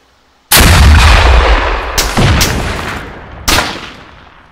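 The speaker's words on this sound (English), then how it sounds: "Is my back blast clear? Back blast area secure. All right, fire." A rocket launcher fires in the Arma 3 video game, with a loud sudden blast followed by a rolling boom and two further sharp booms as the sound decays.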